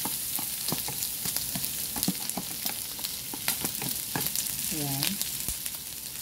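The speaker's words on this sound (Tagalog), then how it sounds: "luto na ang ating pork. So, lagyan natin yung ating bawang. Lagyan na rin natin yung sibuyas." Pork sizzles and fries with garlic and onion in a pan, a steady crackling hiss with scattered pops and stirring scrapes; one brief spoken word and a short faint tonal sound rise over it.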